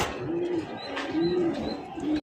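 Fancy racer pigeons for sale coo in soft, repeated rolling calls at close range, several low coos in succession with faint chirps behind them.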